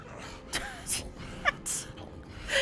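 Labored, ragged breathing from a character in the fantasy role-playing game Pathfinder: Wrath of the Righteous, with several short gasping breaths and huffs spaced irregularly over a quiet background.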